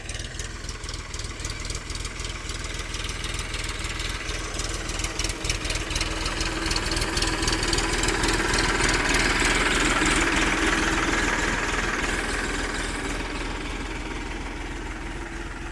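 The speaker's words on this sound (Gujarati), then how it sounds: "તમે જોઈ રહ્યા છો જો ટ્રેક્ટર કેવી રીતે પારા ચડાવે છે" A tractor engine drones steadily while earthing up soil around groundnut plants in a field, a continuous mid-low rumble with rhythmic vibration that swells slightly toward the middle and eases off.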